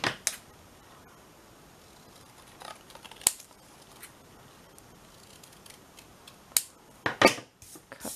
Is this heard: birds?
no